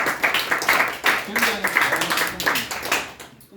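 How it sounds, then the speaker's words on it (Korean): A classroom of students claps in a lively burst of scattered, overlapping hand claps during a first-lesson orientation, fading out near the end. "예, 박수"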